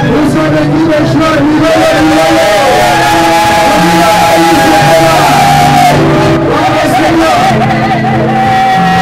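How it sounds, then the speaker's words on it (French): A wedding congregation shouts and whoops with joy, a loud sustained crowd of overlapping cries, voices and cheers filling the whole stretch. "on peut pousser les cris de joie, on peut acclamer Jésus"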